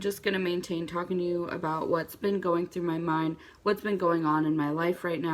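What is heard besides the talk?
No everyday noise stands out behind the speech.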